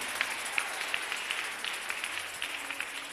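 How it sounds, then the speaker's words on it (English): A church congregation claps at a Sunday service. The applause is a steady, moderately distant stream of overlapping hand claps with some sharper individual claps on top, and no talk over it. "Please clap well for Jesus."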